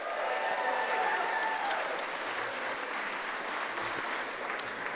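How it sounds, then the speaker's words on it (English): A gala audience at a broadcast anniversary celebration gives a sustained round of applause, a dense, steady roar of many clapping hands heard from a distance, fairly quiet and continuous throughout. "So round of applause,"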